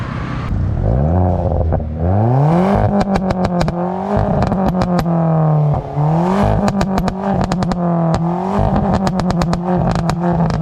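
A Volkswagen Polo GT TSI engine revs hard and close through a loud modified exhaust, rising and falling repeatedly with sharp crackles and pops between the revs.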